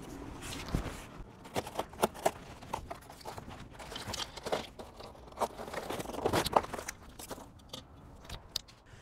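Plastic wrapping is torn and crinkled off the handle of a Big Jack pallet scale's jack, a series of quiet, irregular crackles and rustles close by with no talking.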